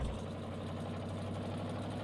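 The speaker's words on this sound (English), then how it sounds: "All these years watching, I finally have my own tractor" A tractor engine idles in the farming game Farming Simulator 19, a steady low rumble with a constant throbbing pulse, running alone and unchanged.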